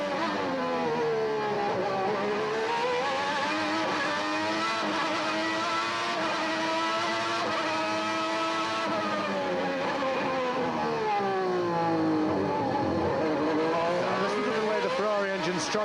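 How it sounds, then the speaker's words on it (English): A Ferrari Formula One car at the 1990 Australian Grand Prix screams through the slow corners, its engine note rising and falling steadily as it pulls away, loud and continuous under trackside commentary. "Listen to the Ferrari."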